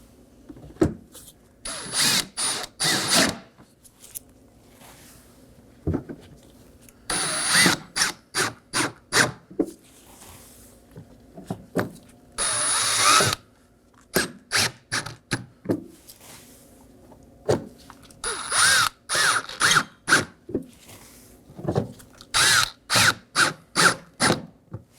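A power drill snugs down five T15 Torx screws on the bumper of a 2018-2024 Chevrolet Equinox 1.5L. Repeated short whirring bursts come close and clear, separated by brief pauses.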